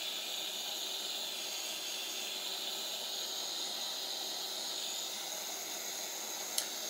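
A torch tip removed from a hot-air tool blows a steady, even hiss of air at close range, continuous and unbroken throughout, with a brief sharp click near the end.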